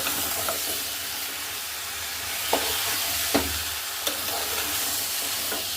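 Chopped pumpkin frying in a hot pan with spices, a steady loud sizzle and hiss throughout, punctuated by a few faint scrapes and knocks of stirring.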